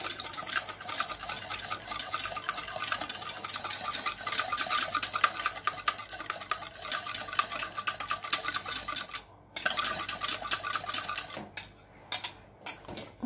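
Ingredients for a baked anchovy dish are stirred in a bowl, giving a continuous busy scraping and clinking of utensil against the dish, fairly close and steady, with a couple of brief pauses near the end and no talking.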